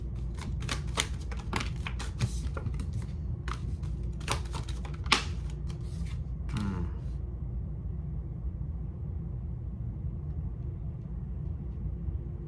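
Tarot cards shuffled and pulled from a deck: a string of crisp, close flicks and riffles, dense at first and then sparse, ending in a soft slide before a steady low background hum.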